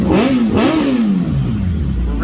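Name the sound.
Hayabusa engine revving on MaxxECU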